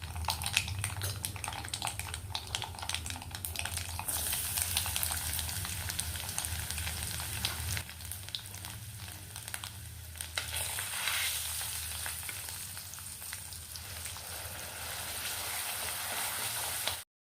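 Steady sizzling of garlic and lentils frying in hot oil, with occasional stirring scrapes, continuous and fairly close throughout.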